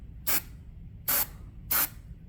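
Deoxit Fader F5 contact cleaner sprays onto the drawbar contact sliders of a Hammond organ in three short, sharp hissing bursts, evenly spaced and close to the mic, with quiet gaps between them.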